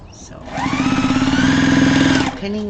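Sewing machine stitching fabric placemats for an outdoor table, a loud rapid mechanical whir with steady needle rhythm, starting and stopping within a couple of seconds, with faint background sounds.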